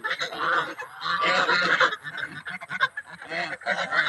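Farm ducks call in a dense, overlapping chorus of honking quacks, steady and close, in an outdoor farm setting without speech.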